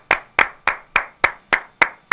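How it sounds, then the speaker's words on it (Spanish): A single pair of hands claps eight times in a slow, even rhythm, each clap sharp and close, as applause for Bernardo Stamatías on a morning radio show. "El aplauso para Bernardo"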